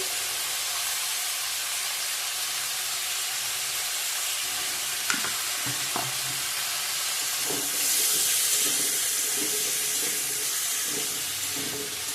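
Potatoes and pointed gourd with salt and turmeric fry in a pan, giving a steady, moderately loud sizzling hiss throughout with a few faint utensil clinks.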